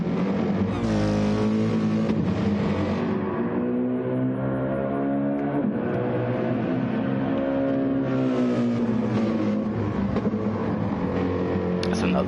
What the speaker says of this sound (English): That's another nice sounding car. I do like the sound of that.